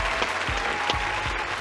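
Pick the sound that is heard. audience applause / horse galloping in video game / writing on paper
audience applause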